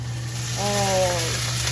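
Water added to a pan of salmon frying in its own oil makes a broad, steady hiss of sizzling that swells briefly, close and loud, with a voice speaking over it.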